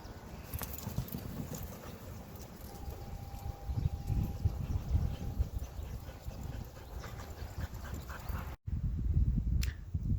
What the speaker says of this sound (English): She is a border collie, a actual sheep dog.